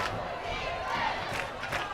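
A high school football crowd roars and cheers on its feet in a tense final play against the Colts, a dense, steady wall of voices with rising shouts.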